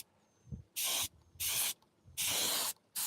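Three loud, close bursts of spray finish hissing onto wood, each roughly half a second long with short quiet gaps between, the last burst the longest.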